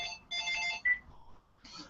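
A phone ringtone chimes in short bright bursts, two clustered rings followed by a brief tone and another burst after a pause, fairly faint and with no talk over it.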